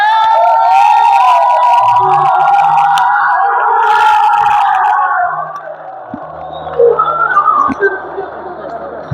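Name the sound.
applause and cheering for the champion football team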